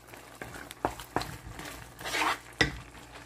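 A spoon stirs green mung beans in a cooking pot, making a few sharp clinks and scrapes against the metal at uneven intervals, with a softer shuffling stretch in between.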